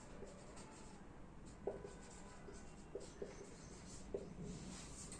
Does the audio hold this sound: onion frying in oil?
no